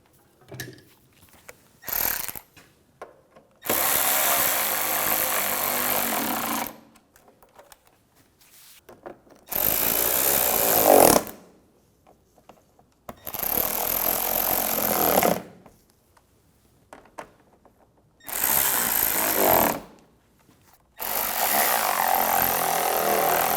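A power tool runs in five or six loud bursts of a few seconds each, separated by quiet pauses, while nuts are tightened down on a 2009–2013 BMW 328i xDrive headlight washer pump.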